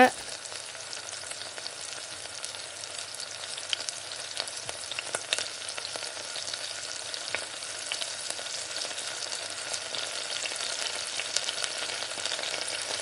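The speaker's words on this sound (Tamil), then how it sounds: "இப்போ ஒரு 2-3 முட்டை நல்லா கட் பண்ணி அப்படியே சேர்த்து நல்லா கிளறிக்கங்க, ஒட்டாத அளவுக்கு கிளறிக்கங்க" Beaten eggs sizzle and crackle in a hot pan of frying chicken fried rice as they are stirred in, a loud, steady hiss with occasional scraping of the spatula and no talk.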